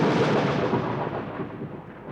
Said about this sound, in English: Thunder crashed and the rain fell.